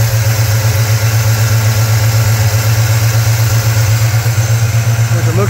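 A car engine with a choke idles steadily at close range, a loud, even low hum with faint mechanical ticking and no start audible in the short span.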